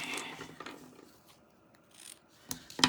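Scissors cutting gift-box ribbon make close, quiet snipping and rasping strokes over about three seconds, ending in a crisper final snip.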